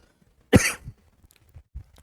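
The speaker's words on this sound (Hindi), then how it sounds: "बहुत खांसी हो रहा है" A single sharp, close cough in the middle of a chemistry lecture, followed by faint low rumbles and near silence.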